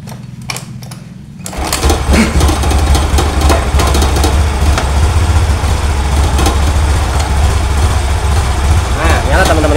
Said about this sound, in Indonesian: Ini motor nyala.